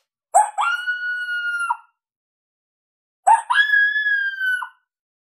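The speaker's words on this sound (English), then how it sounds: "This is coyote female Howl 9" A female coyote howl from the Boss Coyote Mayhem Pak electronic call set: two separate long, wavering howls, each opening with a sharp yelp, sliding up and holding a clear tone before dropping off, with silence between them.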